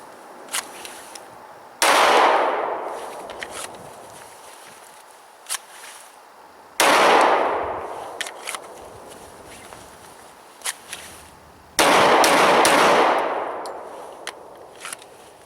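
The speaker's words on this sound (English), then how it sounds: "I'm just going to go slow, bring the gun out, press it out, fire around." Three loud gunshots from an XDM 45c pistol, each drawn from a holster and fired slowly, spaced roughly five seconds apart with sharp cracks and decaying echoes, small clicks and handling noises between shots.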